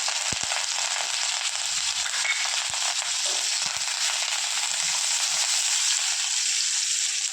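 Chana dal, a green chilli and curry leaves sizzle steadily in hot oil in a pan, a continuous close frying hiss with a few sharp crackles and spoon taps.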